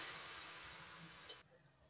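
Water poured into a hot wok on a gas flame hisses loudly and steadily, then stops abruptly, leaving quiet background.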